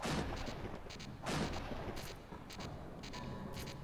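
Enemy machine gun fire in the Fighting Force 2 video game, bursts of rapid shots and booming impacts repeating in quick succession, fairly faint, with no talking.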